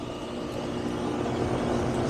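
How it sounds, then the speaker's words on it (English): The compressor of an early-2000s Goodman heat pump that is not cooling runs with a steady, even mechanical hum and drone, close by and unbroken, with no voices. "We are running, and I can hear the compressor."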